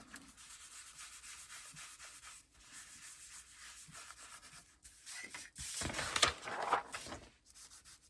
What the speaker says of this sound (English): Just going to wipe off excess glue stick.